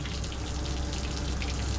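Steady broadband rush of water running into a Yamaha 150 outboard motor being rigged on a 21-foot Cape Horn Offshore boat, a continuous close hiss and gush with no pauses.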